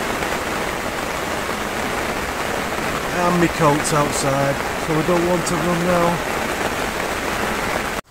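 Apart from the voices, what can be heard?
heavy rain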